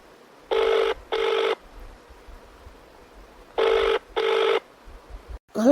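A telephone rings unanswered in two close double rings separated by a quiet gap, each burst loud and clear against a faint background, with a brief different sound at the very end.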